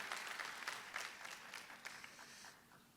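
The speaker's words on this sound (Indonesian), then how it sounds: "Kita kasih apresiasi, tepuk tangan yang paling meriah buat mereka" A church congregation applauds during a service, a busy patter of many hands that starts strong and gradually thins and fades toward the end, heard alone without speech.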